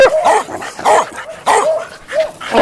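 Pocket beagles at play give a series of sharp, close barks and yips, about five bursts in quick succession, with slight whimpering tones between them.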